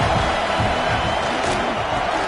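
A stadium crowd at a college football game, South Carolina against UCF, produces a loud, steady roar of cheering and noise that fills the air without letup.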